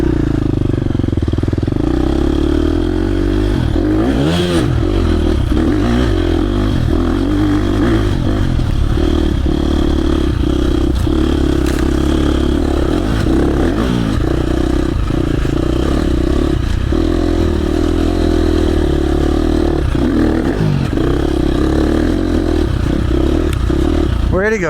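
A 2024 KTM 350 SX-F or 2025 KTM 350 XC-F dirt bike engine idles loudly and steadily in neutral with the clutch pulled in, a close constant drone with occasional revs and clattering, under a rider's voice.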